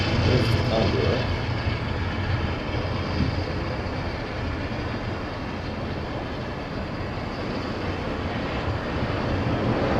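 A Condor airliner takes off at LAX, a broad, steady jet roar heard from a distance that stays fairly constant throughout.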